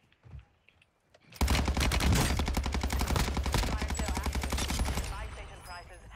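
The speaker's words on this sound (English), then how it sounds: "Someone's shooting me." Sustained automatic gunfire in the video game Warzone, a loud continuous burst of rapid shots that starts abruptly after a brief faint sound and runs for several seconds before tapering off.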